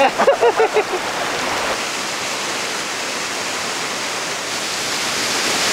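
Cold mountain water rushes in a steady, broadband roar close by in the Benguet mossy forest of the Cordillera, a few brief splashy pulses at the start before settling into continuous flow.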